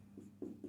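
Chalk or marker scratches across a classroom board in short strokes during an electrical engineering lesson. Three soft, close scraping bursts stand out against a quiet room.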